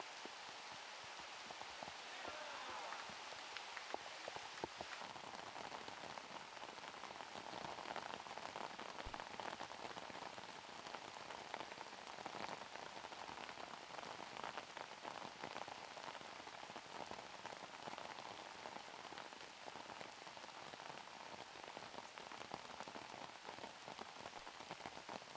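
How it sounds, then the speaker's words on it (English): Heavy rain pours steadily on an outdoor disc golf course, a dense, constant hiss of drops spattering on surfaces with no letup and no talking. "we just turned it up another notch on the rain"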